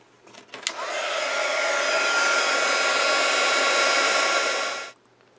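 A heat tool warms a raised outline, starting with a click and then blowing a steady, loud hair-dryer-like whoosh for about four seconds before shutting off abruptly, close by with no talking.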